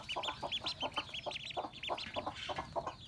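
A hen that hatched duck chicks clucks in quick, repeated bursts at close range, a busy run of short calls over a faint background.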